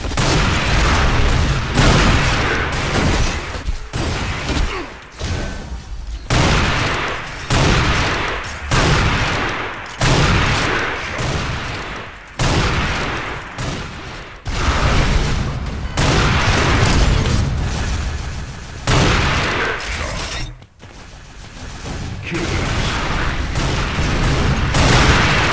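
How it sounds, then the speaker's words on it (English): Sniper rifle fire in Unreal Tournament 4 gameplay, a loud, dense run of booming shots and explosions repeating for the whole stretch with only brief gaps, no talk over it. "Check out the new sniper rifle."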